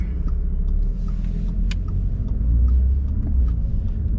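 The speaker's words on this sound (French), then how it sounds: "même au ralenti on entend le moteur" A 2013 Audi A3 with a 1.6 TDI diesel and S tronic gearbox idles steadily, a continuous low rumbling drone with faint clatter, heard alone at close range.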